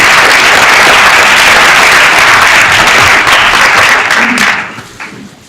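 Audience applause welcoming Dr. Christine Cassel at a medical leadership lecture, dense sustained clapping from a large crowd filling the room, then thinning and fading out near the end.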